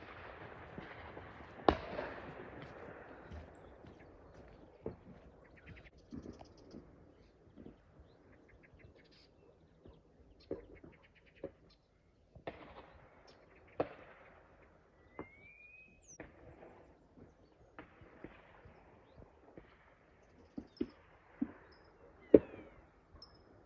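Hunters' gunshots crack far off across countryside in the Algarve on an early morning, a scattered series of faint sharp bangs at irregular intervals over a quiet background with occasional birdsong.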